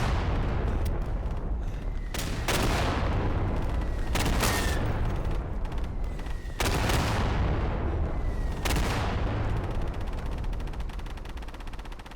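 Dense gunfire in the World War II shooter Day of Infamy, Dunkirk map: continuous rattling shots and sharp bursts under a constant battlefield roar, with a few louder cracks standing out every couple of seconds.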